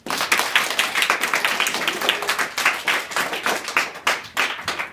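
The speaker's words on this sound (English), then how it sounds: "Give him a round of applause." A classroom of students applauding during an awards event, a dense, lively run of many hand claps rising and falling, close by with no talking over it.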